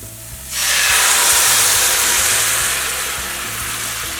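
Liquid hitting a hot pan of teriyaki chicken bursts into a loud, steady hiss and sizzle that starts suddenly and slowly eases off, alone without talk.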